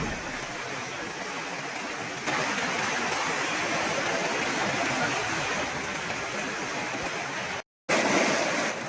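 The Rungdung river flows in a steady, broadband rush of water, loud and close, with a brief dropout near the end before the flow resumes.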